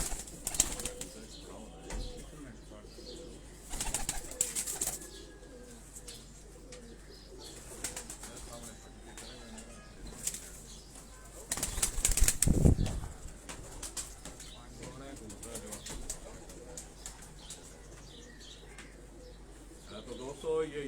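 Mysore pigeons at an old family loft in Lahore cooing softly, with bursts of wing flapping, loudest around the middle, over steady background noise.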